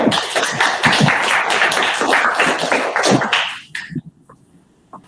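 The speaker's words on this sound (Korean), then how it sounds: "박수로 환영해 주십시오" Lively audience clapping at a 2021 youth policy proposal contest in Yongsan-gu, loud and close for about three seconds before it thins out into a few scattered claps and quiet.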